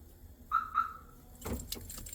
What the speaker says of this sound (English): So if I lock the car, it's just 1 chirp.